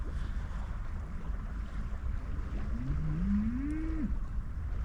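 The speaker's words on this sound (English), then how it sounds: "cows are on good form as well." A cow lets out a single drawn-out moo rising and falling at a distance over steady surf and wind on a South Wales shore at night.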